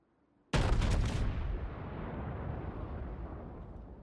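The battleship Texas in World of Warships fires a heavy gun salvo: a sudden, loud booming blast with a crackling burst that rolls into a long, fading rumble.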